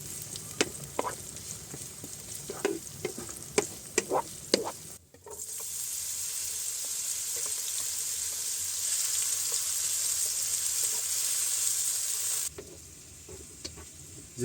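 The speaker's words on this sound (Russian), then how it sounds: "лисички я промыл. Сейчас буду их жарить" Washed chanterelle mushrooms sizzling and frying in a pan inside a forest dugout, a steady close hiss that settles in after a few sharp clatters and stirs, with no talk.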